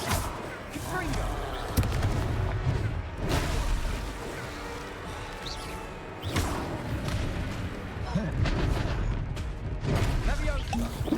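Repeated blasting spell impacts from the fire-type Confringo curse in the fantasy game Hogwarts Legacy, heavy booming thuds recurring every couple of seconds, close and loud over continuous game ambience.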